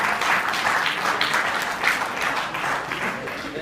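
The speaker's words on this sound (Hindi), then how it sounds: "तो इस बात पे नेहा और धवल के लिए तालियां।" An audience at a live stage show claps in steady, dense applause that holds for several seconds at an even level, with no voices over it.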